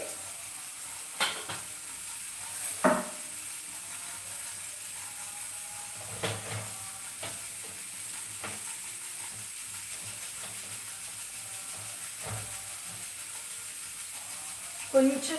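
Chana dal dropped into hot oil for a moong dal curry, giving a low steady sizzle with a few sharp clicks and scrapes of stirring spaced through it, no talking.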